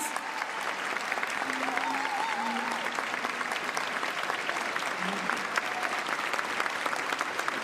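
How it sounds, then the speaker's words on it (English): Audience applause at Philadelphia's mayoral inauguration: sustained, dense clapping from a large crowd fills the hall evenly for the whole stretch, with faint voices and brief tonal sounds mixed in beneath. "Give them a round of applause, please."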